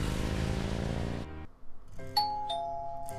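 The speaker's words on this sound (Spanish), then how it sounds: "Ding dong." A two-tone doorbell chime rings out at a grandmother's house in the video game Gabriel Knight: Sins of the Fathers, following a loud burst of game music that cuts off abruptly.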